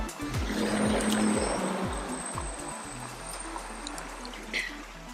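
A fountain at the Kobe Water Science Museum splashes and trickles steadily nearby, its rushing water filling the scene under low background rumble, with no one speaking.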